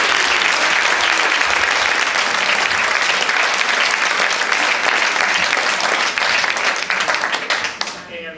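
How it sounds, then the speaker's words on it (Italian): A large audience at an Italian live event claps in a sustained, dense burst of applause that stays loud throughout and fades briefly at the very end. Faint crowd voices sit beneath the clapping. "Ok, allora chiedo un ulteriore grande applauso"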